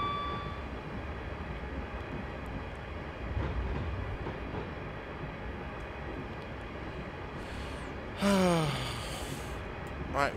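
An electric Class 350 train runs on the West Coast Main Line in a train simulator game, giving a steady low rumble of running noise throughout, with a rising electronic whine swelling near the end.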